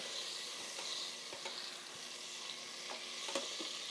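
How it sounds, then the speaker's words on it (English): Butter melts in a pot over medium-high heat, giving a steady close sizzle and crackle with faint scraping or stirring clicks and no speech. "The first thing we want to start with is adding butter to our pot that we have put at medium-high."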